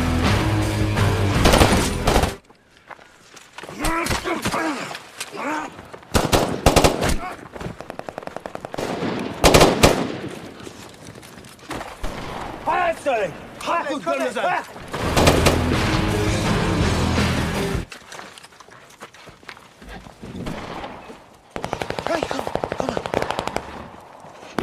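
Bursts of automatic gunfire and single shots crack through a shootout scene from the film Special Forces, in loud irregular volleys separated by short lulls, with music and voices mixed between them.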